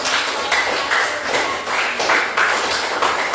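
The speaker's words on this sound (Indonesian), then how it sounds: "Kita beri tepuk tangan untuk" Applause from students in a classroom for groups that have just presented their discussion results: steady, dense clapping that holds for several seconds, close and fairly loud, with no voices over it.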